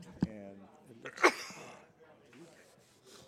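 A single sudden sneeze bursts out nearby against a quiet room at a pool table, and a person talks briefly around it.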